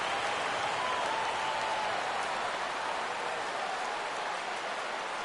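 A baseball stadium crowd in MLB The Show 17, with the Oakland Athletics hosting the New York Yankees, sends up a steady roar of cheering and applause that holds loud and even throughout.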